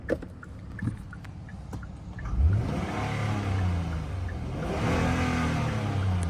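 Engine of a 2018 Kia K7 taxi running and revving up, a steady mid-pitched drone that rises in pitch partway through, close and loud with no talking.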